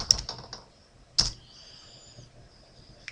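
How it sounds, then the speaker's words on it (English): A few computer keyboard keystrokes, typing a short word into a Cisco command line interface, with two sharp taps standing apart over a quiet background. "here we're going to type Cisco"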